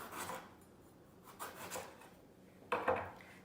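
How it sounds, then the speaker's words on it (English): A kitchen knife slices a ratatouille vegetable into thick rounds on a cutting board, giving a few separate soft rasping strokes, with a sharper tap of the blade meeting the board near the end, quiet and close. "Then we're going to cut it into rounds, just like this. Nice big thick slices."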